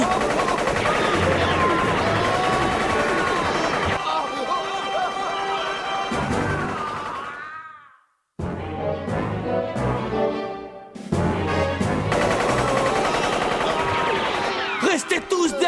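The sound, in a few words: machine gun fire in an animated episode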